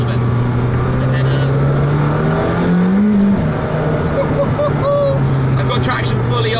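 A McLaren Senna sports car cruises in cold weather with its engine droning steadily and loudly, the pitch rising briefly as it revs then settling back, while the driver talks over it.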